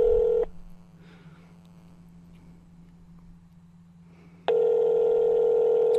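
Phone tones dialing out to a GameStop store: a steady loud tone cuts off, a quiet stretch of faint line noise follows, then the tone returns strong over a low constant hum.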